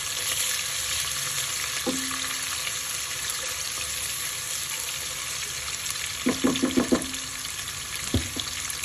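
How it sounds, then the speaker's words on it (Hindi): Onions frying in a pan for matar pulao give a constant soft sizzle, with a few clacks of a spoon stirring near the end. "उसके बाद मैं इसके अंदर ऐड करूंगी हाफ कप के करीब अनियन। अनियन को जरा हम पिंक होने देंगे।"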